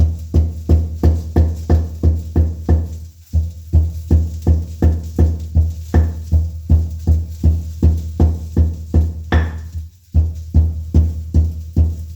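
Fresh coconut ground in a kitchen mixer grinder, run in quick repeated pulses: a steady series of short, loud motor bursts with a brief pause in the middle, no voices.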